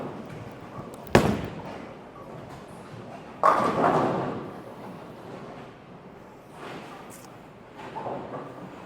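A Storm Level bowling ball is thrown down the lane, giving a sharp thud followed a couple of seconds later by a louder, echoing crash of pins that fades into the ambience of the alley.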